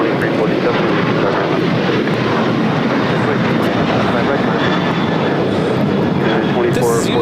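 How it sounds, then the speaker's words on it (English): United Airlines Boeing 737-900ER jet taking off from runway 25 right at LAX for Las Vegas, a loud, steady broadband engine roar that holds throughout at close range. "This is United Airlines 2449 taking off to Las Vegas on a 737-900ER."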